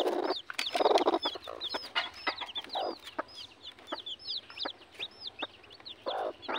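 Labuyo junglefowl chickens cluck in short repeated chirps and calls at a moderate distance, with scattered sharp knocks and bursts of rustling between them.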